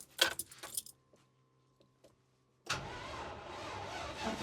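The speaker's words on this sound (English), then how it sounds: "I might just get my keys up here." Keys jangle briefly up close, a quick metallic rattle, then after a short quiet a Land Rover engine turns over and settles into a steady running rumble.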